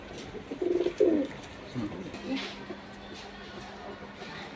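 Pigeons offered for sale give soft, low coos close by in two short bursts, faint against a quiet background with some murmured talk.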